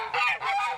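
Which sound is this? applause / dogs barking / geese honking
geese honking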